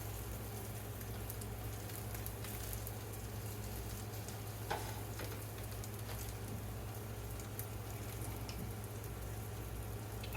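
A patty fries in a pan, a soft steady sizzle and crackle with scattered pops, fairly faint and continuous, no talk.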